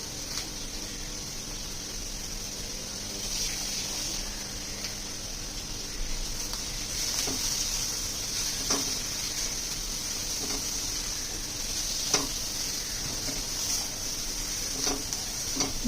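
Onions and coriander stems sauté in a pan for a shellfish curry, giving a steady, soft sizzling hiss with occasional small crackles and pops throughout, with no talking.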